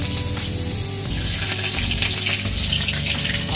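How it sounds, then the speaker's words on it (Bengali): Chopped ginger sizzling in hot oil in a wok, a steady loud crackling fry that holds throughout with no speech. "আদা দেখতে পাচ্ছ দিতে না দিতেই কিন্তু ছটপট করছে"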